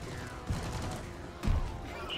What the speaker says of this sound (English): this is a good location for my turrets. They're going ham